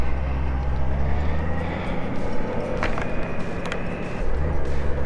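A Honda Goldwing motorcycle riding through a neighborhood, its engine a steady low rumble with rising and falling pitch as gears shift, heard up close over wind noise with no talking.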